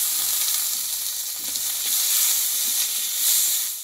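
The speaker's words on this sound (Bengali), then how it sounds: "আর এখানে বড় সাইজের টমেটো দিয়ে দেবো" Large tomatoes hit a pan of fried ginger paste and sizzle steadily, a dense close frying hiss with faint stirring scrapes throughout.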